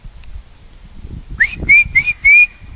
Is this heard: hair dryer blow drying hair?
no